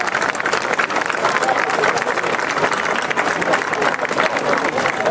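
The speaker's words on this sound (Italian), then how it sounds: "Vi chiederei, non lo faccio più, un grosso, grosso applauso." Applause from a large audience at an Italian charity solidarity event, dense steady clapping and crowd noise filling the whole stretch at a loud, even level with no break.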